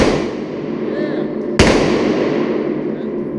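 One handgun shot at a shooting range, a single sharp crack over a steady background of noise, heard close and briefly.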